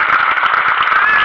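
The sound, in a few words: audience applause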